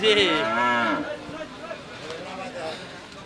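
At a crowded cattle market, a cow lets out a loud, close, drawn-out moo at the start, followed by background crowd noise and talking.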